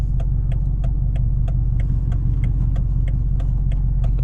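A straight-piped BMW M550i's engine gives a loud, steady, deep rumble close to the microphone, with regular ticking pulses running through it and no voices.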